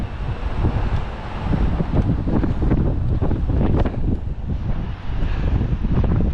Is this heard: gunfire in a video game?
no